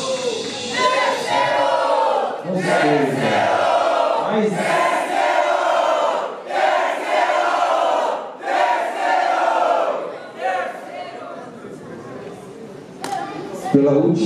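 Loud crowd noise from an audience at a Brazilian freestyle rap battle in Paraná, cheering and shouting in sustained waves for about fourteen seconds with brief dips between surges.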